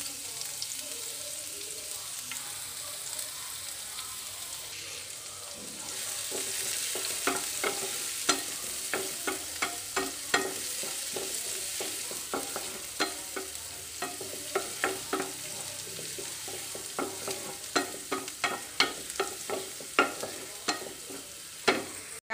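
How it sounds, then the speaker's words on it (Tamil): Onion hits hot oil in a pan and fries with a steady sizzle, while a spoon scrapes and stirs in repeated sharp clinks and scratches through the second half. "இப்போ ஆனியனை போட்டுருவோம்."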